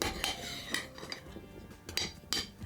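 Seasoned ingredients tossed together in a small baking tray, with utensil clinks and scrapes against the metal pan in irregular bursts, close up and fairly quiet.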